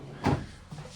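A soft-close kitchen drawer in a luxury Latitude Meridian 30 motorhome gives a single muted thud as it settles shut, then a faint second tap, close by and quiet.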